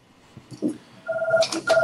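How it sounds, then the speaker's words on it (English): A telephone rings in short electronic tones, two clear rings sounding in an indoor room with faint background noise and no talk over them. "Phone is ringing."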